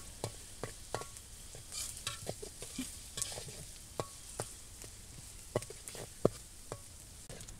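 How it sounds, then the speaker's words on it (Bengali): Prawns and chopped onions fry together in a pan for a prawn and taro-stem curry, giving a steady close sizzle broken by frequent sharp scrapes and clicks of a stirring spoon, with no voices. "চিংড়ি মাছ আর ওগুলো দিয়ে পেঁয়াজ একসাথে ভালোভাবে ভাজাও"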